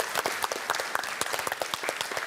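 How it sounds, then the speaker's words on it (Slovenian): A school audience breaks into brisk applause for the winning primary school team, sharp individual claps clearly audible in a short, lively burst. "Še en aplavz za osnovno šolo Vojnik, današnje zmagovalce"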